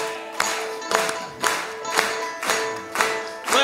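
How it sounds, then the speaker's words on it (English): Audience clapping in time at a live tribute concert, steady rhythmic claps roughly every half second over a sustained musical backing, fairly close and even. "clap your hands"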